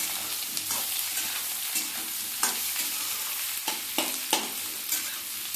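Onion frying with vegetables in a pan, including cabbage and small shrimp, gives a steady close sizzle broken by repeated scraping knocks of a spatula stirring the mix.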